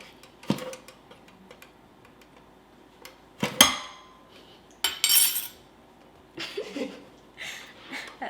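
Sticky bread dough being shaken off a spoon, producing sparse, close metallic clatters and knocks against a bowl separated by quiet gaps, with a few brief vocal sounds.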